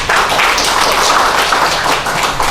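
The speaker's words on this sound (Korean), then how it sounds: "큰 박수로 맞이해주시기 바라겠습니다." An audience at an academic conference at the National Library of Korea claps steadily, a dense, even wash of applause welcoming a presenter, with no voices over it.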